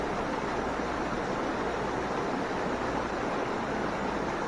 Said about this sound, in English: So just enjoy the sound of the water